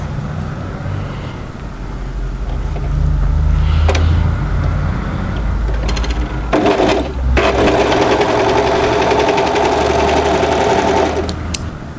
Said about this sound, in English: we're going to place the piece right sides together and overlock the short edge together